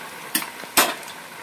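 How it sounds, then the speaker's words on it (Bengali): Chana dal fritter batter dropped into hot oil for deep frying, giving two short, sharp splashy sizzle bursts close by with quiet pauses between. "এরকম ডুবো তেলে ভাজবে, ডিপ ফ্রাই হবে"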